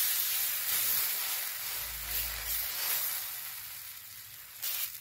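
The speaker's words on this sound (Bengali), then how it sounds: "তাওয়া গরম হয়ে গেছে, এবার আমি হাতার সাহায্যে এটিকে দিয়ে দেবো।" Cabbage pitha batter sizzles on a hot oiled tawa, a steady soft hiss of frying that runs throughout at low volume with no talk.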